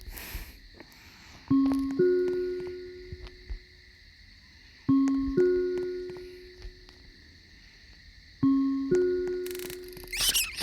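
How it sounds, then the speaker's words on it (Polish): Three repeated synthetic squeaking chirps, each a short rising squeal with a fading tail, over a low electronic hum, like game rats scurrying. "To tylko szczury."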